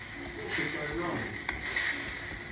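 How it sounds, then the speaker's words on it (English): Food is stirred in a hot, sizzling pan late at night, a steady close hiss with soft scraping strokes and a brief clink in the middle, under a faint background hum. "Just stirring it in now, really just stirring it in now"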